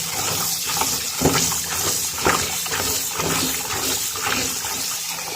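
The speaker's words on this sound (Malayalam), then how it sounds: "കപ്പ മൂന്നാല് പ്രാവശ്യം നന്നായി കഴുകിയെടുക്കണം" Chopped cassava (kappa) being washed by hand in a vessel of water, with steady splashing and sloshing and a few sharper swishes, close and continuous without talk.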